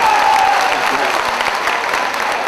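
Loud applause from a mushaira audience in Bijnor fills the space for a poet, steady dense clapping throughout, with a faint held vocal tone at the start.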